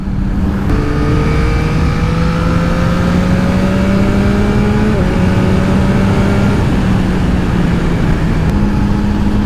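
A 2022 Yamaha MT-09 SP motorcycle rides steadily through countryside, its engine droning loud and close with gradual pitch shifts and a brief gear change midway, under constant wind rush.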